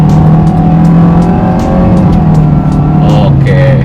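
A Toyota Veloz Hybrid accelerating, its steady engine and road drone loud and close from inside the cabin, with a faint rising whine near the end.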